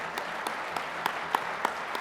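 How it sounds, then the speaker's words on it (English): An audience at the 2023 CBTU Conference applauds the In the Trades team, its claps landing in a steady, evenly spaced rhythm at moderate loudness. "Yes, have a round of applause."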